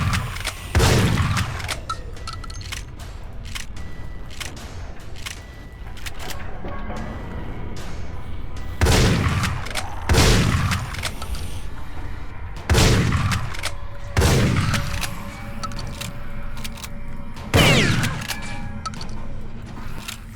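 Heavy booming gunshots from Dead Effect, a sci-fi shooter, fire in spaced single blasts every couple of seconds over a low rumbling ambience, loud and close.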